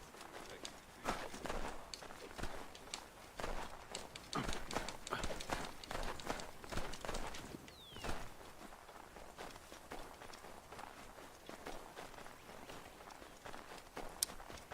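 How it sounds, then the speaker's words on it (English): Hooves clop at a steady walking rhythm in an Assassin's Creed video game, several horses moving together on hard ground, moderately loud and continuous, with faint rustling and a brief swish. "More horses."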